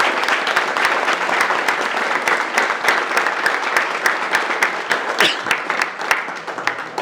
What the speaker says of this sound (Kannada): ಎಲ್ಲರೂ ಅವರಿಗೆ ಹೃದಯಪೂರ್ವಕವಾಗಿ ಚಪ್ಪಾಳೆಯೊಂದಿಗೆ ಸ್ವಾಗತವನ್ನು ಕೋರೋಣ